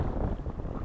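Strong, cold wind on the Moksha River during a fishing trip, booming and buffeting against the microphone in a steady low roar with no pauses and no talking.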